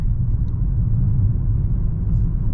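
A 2023 Audi S6 cruises in comfort mode, heard from inside the cabin as a steady, loud low road and engine rumble with no breaks and no talking.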